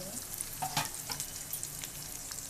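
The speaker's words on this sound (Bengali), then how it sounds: "দেখো বন্ধুরা ভাজা হয়ে গেছে এখন" Food fries in a hot pan during home cooking of a vegetable and fish dish, giving a steady close sizzle with occasional stirring scrapes and no talking.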